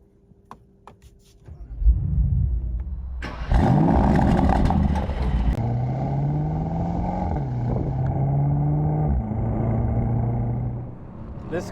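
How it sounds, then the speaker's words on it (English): A Mercedes-AMG SL63 engine starts with a deep roar, then climbs into a loud, sharp rev. It settles into a steady, rumbling drone with shifting pitch as the car drives on, heard up close with no talk. "This car just sounds incredible."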